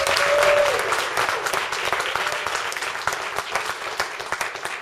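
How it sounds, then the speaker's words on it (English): A crowd at a Hip Hop Week event applauds loudly and continuously, many hands clapping at once, with a brief tonal sound near the start and the clapping gradually thinning and turning more scattered toward the end. "If you love hip hop, put your hands together."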